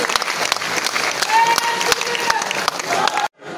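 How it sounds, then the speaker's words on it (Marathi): A large crowd at a Sambhaji Brigade protest rally claps steadily and loudly for about three seconds, dense applause with some cheering mixed in, before it cuts off abruptly. "टाळ्या पण ब्रिगेडी सारख्या वाजल्या पाहिजेत."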